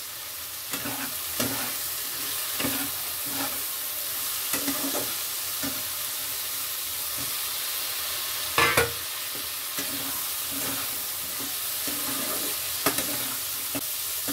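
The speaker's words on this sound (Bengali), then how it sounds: "মশলাটা কষিয়ে নিয়ে দিয়ে দেব ভেজে রাখা চিংড়ি মাছ।" Spice paste of turmeric and Kashmiri red chilli frying with prawns for a Bengali okra-and-prawn dish, with rhythmic stirring scrapes over a continuous close sizzle and an occasional louder clatter.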